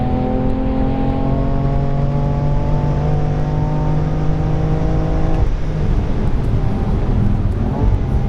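A BMW M3 Competition engine drones loudly from inside the car on a track day with stability control off, holding a steady pitch, then dropping sharply as the driver blips and downshifts, before the engine note rises again.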